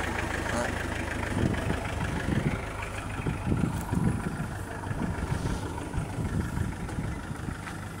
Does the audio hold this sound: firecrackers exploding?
no